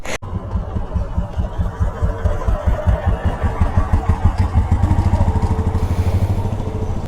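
A custom KGF-style motorcycle rumbles loud and close through its modified exhaust, a steady throbbing idle with rapid pulsing beats that swell slightly in intensity.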